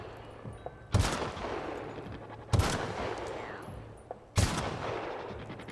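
Three spaced gunshots from the player's weapon in The Outer Worlds, each a sharp loud crack with a short decaying tail, separated by pauses of roughly a second and a half over low background game noise.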